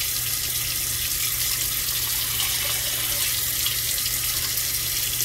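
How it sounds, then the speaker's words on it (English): Hot water pours steadily from a tap into a sink, a constant close hiss and splash with no pauses or voices. "And then I'm going to change the temperature of the water."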